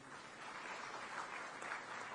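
A crowd at a women's conference and tree-planting event in Jagdalpur claps for the chief minister, faint, distant applause forming a soft, even wash of hand claps throughout.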